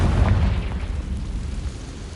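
Fiery blast of the Confringo spell in Hogwarts Legacy on PS5, a loud, deep rumbling explosion that starts at full force and slowly decays, with no talk over it.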